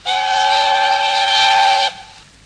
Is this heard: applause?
no